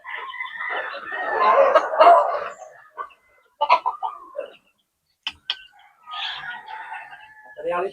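A backyard-bred fighting rooster crows loudly nearby, then gives a few short clucks and calls, with more crowing toward the end.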